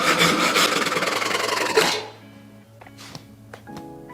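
A short wooden dowel stick clamped down is cut by hand with steady, close rasping strokes for about two seconds, then stops, leaving a quiet room with a few faint knocks.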